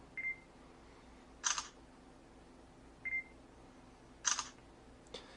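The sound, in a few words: smartphone camera focus confirmation beep and shutter snap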